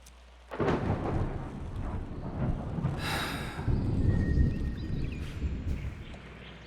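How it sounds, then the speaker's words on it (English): Thunderstorm weather in the video game Arknights Endfield: deep rolling thunder rumbles over a steady bed of rain, swelling and fading through the clip with a louder crack midway, no voices. "The sky is heavy with rain clouds. This weather is most fickle."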